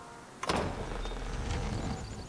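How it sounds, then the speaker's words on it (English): A castle gate opening in the Zelda: Link's Awakening video game, a sudden loud rumbling onset followed by a sustained low grinding rumble that carries on steadily with no voices. "It sounds like the castle gate opened."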